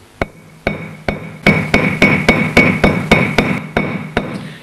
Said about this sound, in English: you can crimp it with a hammer and it'll clamp down on the washer